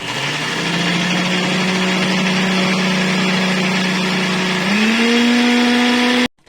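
A mixer grinder runs steadily, grinding ripe mango pulp, its motor whine holding constant before rising in pitch near the end and then stopping abruptly.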